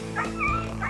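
A dog yelps sharply after sitting on an electric fence beside a horse paddock track. The cries are close and repeated in short, strained bursts, with no talk over them.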